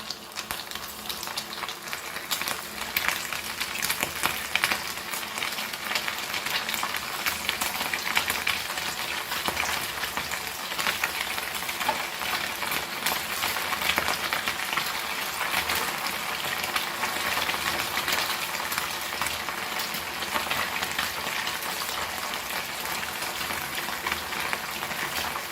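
Rava-coated silver smelts frying in hot oil over a low flame, a dense, even crackle and sizzle holding steady and close throughout, with no voices.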